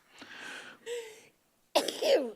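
A sneeze at a county planning commission meeting, heard as a few short, moderately loud bursts of breath and throat noise, with a slightly louder final burst after a brief pause.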